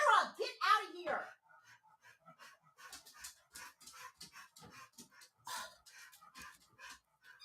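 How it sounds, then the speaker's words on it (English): A dog named Bagheera, in a room under a desk, opens with a few loud, close yelps or whines, then goes on with quieter, rapid panting and snuffling clicks. "this dog is in here and she's fucking up my show"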